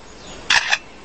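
A lyrebird in the forest imitates a camera shutter, two quick crisp mechanical clicks close together, sharp and clear over a faint hiss.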